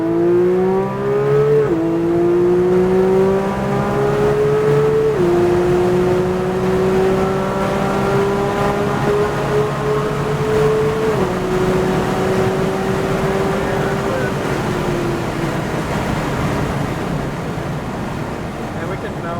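A Porsche 911 accelerates hard on the Circuit of the Americas race track, its engine note climbing through several gear changes, loud and continuous with heavy wind rush, heard from inside the car with faint talk underneath.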